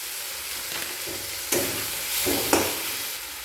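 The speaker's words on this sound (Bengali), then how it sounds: "মশলার মধ্যে টমেটো কুচি নাড়াচাড়া করে নেব।" Chopped tomatoes sizzle in hot spices in a pan while being stirred, with a steady frying hiss and a couple of louder scraping stirs close by.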